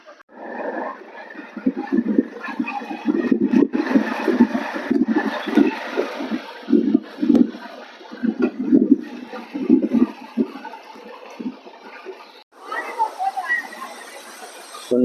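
A rushing mountain stream at Tapkeshwar Mahadev in Gir Gadhada gives a steady, hissing roar throughout, with a voice narrating continuously over it.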